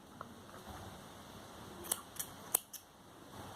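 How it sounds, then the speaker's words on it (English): Scissors snipping crochet yarn at the end of a poncho piece, with a few faint, quick close snips and clicks over quiet room tone. "snip off this yarn"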